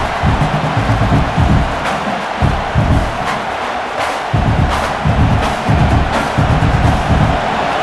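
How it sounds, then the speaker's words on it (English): Stadium crowd roaring in NCAA College Football 26 during a Washington Huskies versus Michigan Wolverines game, a steady loud wash of crowd noise with rhythmic swells and low rumbling throughout. "And wow, listen to this crowd noise. This stadium is vibrating."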